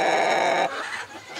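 A hen on a farm raising foreign chicken breeds gives a loud, close, drawn-out call, followed by a fainter trailing cluck.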